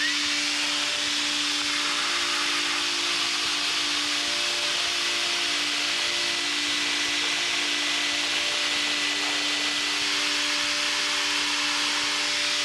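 A cordless HEPA vacuum cleaner rated at 262 air watts of suction runs in a steady, loud broadband whoosh with constant motor tones throughout, alone and without speech.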